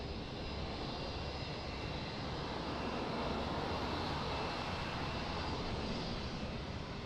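An airliner takes off at Lisbon Airport with a steady, broad engine roar that holds loud and unbroken throughout, heard from some distance with no voices.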